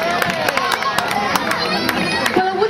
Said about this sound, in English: Big cheer for Santa, kids.